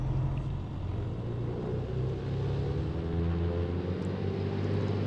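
A Piper Turbo Arrow's engine throttles up in the AeroFly FS2 flight simulator, a loud, steady broadband roar with a deep low rumble that holds without a break.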